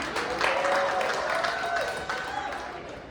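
An awards gala crowd claps steadily and loudly, with cheering voices and chatter mixed into the dense applause throughout.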